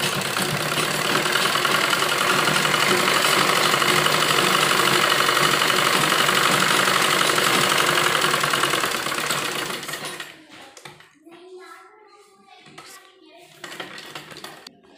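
Sewing machine stitching the frill sleeve of a baby kurti, a dense continuous whirring rattle running for about ten seconds before stopping, followed by a few soft handling clicks and rustles.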